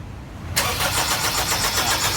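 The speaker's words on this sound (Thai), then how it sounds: "สตาร์ทเครื่องให้หน่อย" A 2003 Honda CR-V that will not start, its engine being cranked: a sudden loud, steady whirring churn begins after a short quiet moment and continues evenly to the end, with no voices.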